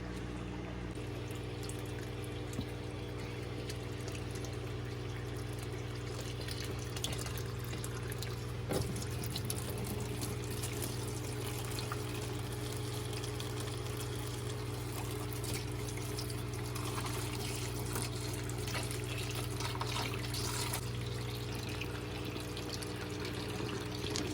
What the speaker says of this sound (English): we're just basically going to add water to this and come right back